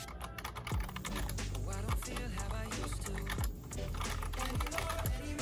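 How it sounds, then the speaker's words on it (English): Rapid, steady keystrokes clatter on a computer keyboard, close and continuous, with no talk. "Typing in different documents and paperwork."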